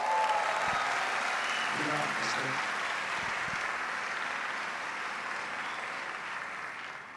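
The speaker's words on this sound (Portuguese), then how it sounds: "Você pode aplaudir ao Senhor?" A church congregation applauds at a Christian pastors' conference, a broad, steady clapping wash filling the room and holding for several seconds, slowly easing toward the end, with a few low thumps and faint voices underneath.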